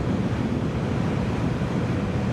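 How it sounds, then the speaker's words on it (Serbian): Steady, loud wind roar buffeting the microphone while riding a Zontes 125X motorcycle, a continuous low rumble with no talk. "Zaštite od vetra bukvalno i da nema."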